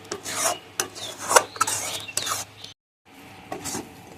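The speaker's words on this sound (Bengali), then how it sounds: "এবার ছানার সঙ্গে দুধটা ভালো করে এইভাবে মিশিয়ে নেব, নিয়ে অনবরত নাড়তে থাকবো" Chhana mixed with milk is stirred continuously in a kadai while making kancha golla sweets, producing close, rhythmic rasping scrapes of a spatula against the metal, broken by a short silence near the end.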